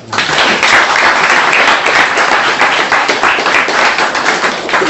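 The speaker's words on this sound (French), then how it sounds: "Applaudissez pour vous alors." An audience claps in sustained, dense applause that starts abruptly and stays loud and even throughout, no talking.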